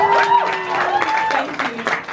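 Audience applause for a panel at a YouTube Black celebration event, steady clapping across the whole moment with tonal sounds running over it.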